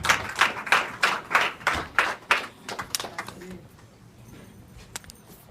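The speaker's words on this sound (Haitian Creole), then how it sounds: "applaudissez Saint-Esprit dans la vie" A church congregation at a Sunday service claps together in a steady rhythmic beat for about three seconds, then the clapping thins out and fades.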